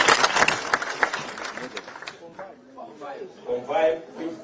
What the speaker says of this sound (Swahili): Aya, tuwapigie makofi.